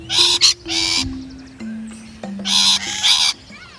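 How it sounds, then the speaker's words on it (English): Rainbow lorikeets, native Australian parrots, call from a tree in loud, harsh screeching bursts, several overlapping shrieks repeating close by over a steady low hum. "found a couple of native parrots chilling in a tree. And these are known as rainbow lorikeets."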